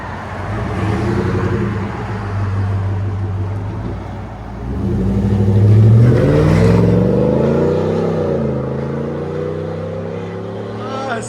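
A 2020 Chevy Silverado RST 5.3L V8 fitted with a Netami turbo resonator revs loud and close, its deep drone rising to a higher peak midway and then easing down to a steady idle.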